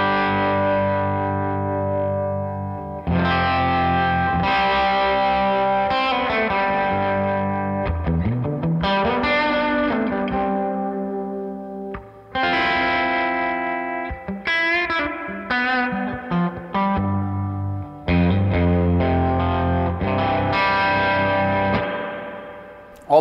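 Electric guitar chords swell up gradually in volume using a volume pedal, drenched in lush reverb, ringing out and fading between phrases with no voice present.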